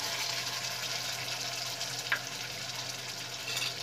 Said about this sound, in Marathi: परतून घेऊया आपण हे छानपैकी तेलामध्ये.